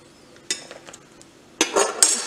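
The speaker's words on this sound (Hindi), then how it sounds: "इसी तरह से हम अपनी बाकी की पूड़ियाँ भी तल लेते हैं।" Pooris frying in a pan of oil, a soft sizzle broken by clinks and scrapes of a metal utensil against the pan, a few sharp knocks near the end.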